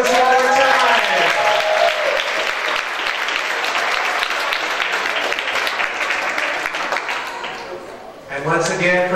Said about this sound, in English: and let's give the principal, Ms. Bethea, a big round of applause.